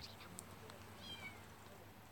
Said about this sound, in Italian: Se sentite un gattino che miagola